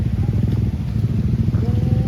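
A motorcycle engine chugs on a rough, rocky road where the path runs out, a loud, close, low pulsing rumble that carries on throughout without pause.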